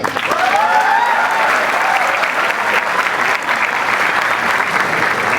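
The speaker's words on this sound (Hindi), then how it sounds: "तालियां भाई" An audience applauds a special guest during a live conversation event, loud continuous clapping from a sizable crowd with a faint voice or whistle rising briefly near the start.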